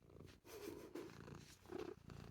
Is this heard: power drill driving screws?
no